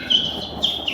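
Human voice imitating morning birdsong, a quick series of high, thin chirps and whistles in short bursts, close and clear with nothing else audible.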